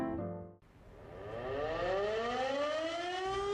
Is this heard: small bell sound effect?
no